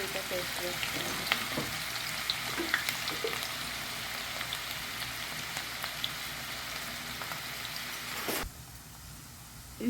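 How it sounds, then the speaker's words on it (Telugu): Onions frying in hot oil in a pan, cooking for a mutton and eggplant masala, give a steady dense sizzle and crackle with small pops throughout, dropping suddenly quieter near the end. "నూనె వేడెక్కింది, ఆనియన్ వేస్తున్నాను"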